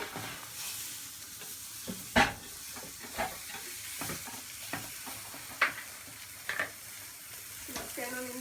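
Vegetables are stirred and tossed in a big sizzling pan for noodles with feta, the spoon scraping in irregular clacks over a steady frying hiss, with no talk.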